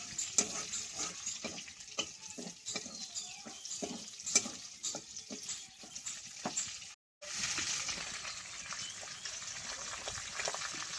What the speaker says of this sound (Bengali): ফোড়নটা একটু গরম করে নেব।